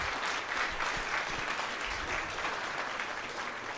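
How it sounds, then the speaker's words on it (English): A brief round of applause from an audience at a startup pitch night, a soft, even wash of clapping at moderate distance, with no voices over it. "Round of applause."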